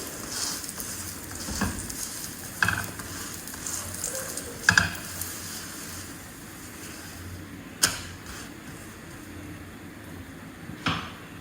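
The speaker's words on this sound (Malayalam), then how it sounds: "ഇങ്ങനെ ബട്ടറിൽ ഇങ്ങനെ മൊരിച്ചെടുക്കണം" Butter naan crisping in butter on a hot pan, a low continuous sizzle with occasional sharp clinks and taps of a utensil scattered across it.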